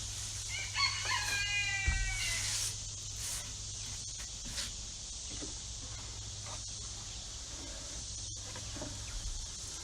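A rooster crows once in a farmyard chicken coop, a fairly faint, distant call near the start over steady low background hum, with scattered small knocks afterward.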